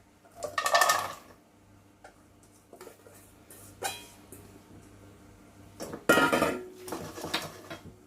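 Sliced carrots tipped into a pan, heard as a few distinct clattering bursts of metal and pieces landing, separated by quieter shuffling and small knocks, close and without talk.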